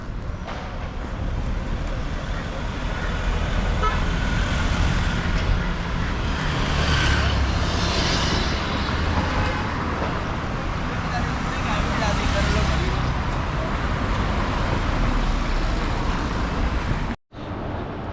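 Busy street traffic in Mumbai on a hot afternoon: a dense, continuous roar of passing cars, buses and engines close by, with swells as vehicles pass and faint voices mixed in.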